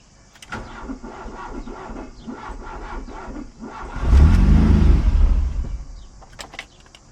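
A VW Golf 1 GLI is cranked: a run of rapid starter clicks and whirring, then the engine catches with a loud low rumble near four seconds and fades out as it stalls, followed by a few faint clicks.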